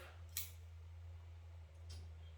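Shears snip through Melaleuca foliage during a quick garden trim, two crisp cuts spaced about a second and a half apart over a steady low hum, fairly quiet and close.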